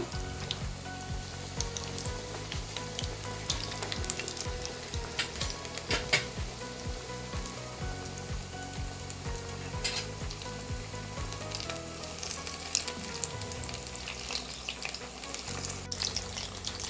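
Cauliflower pieces fry in a pan with a steady, rain-like crackling sizzle, moderately quiet and close, with a few faint clicks and no stirring.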